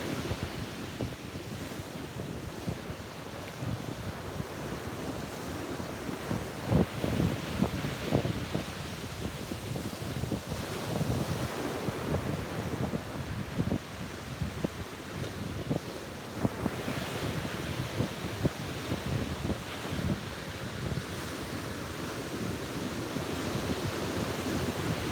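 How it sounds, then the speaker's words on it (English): Surf breaking steadily on a stormy beach, rolling waves crashing close and loud with constant wind buffeting the microphone and no voices. "soak in the sounds of these amazing waves"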